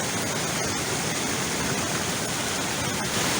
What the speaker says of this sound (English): I got to see water flowing down this waterfall.